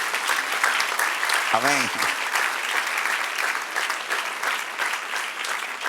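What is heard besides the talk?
applause for the Lord in church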